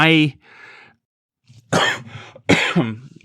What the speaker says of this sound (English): warning that you were going to cough so that my cough would be covered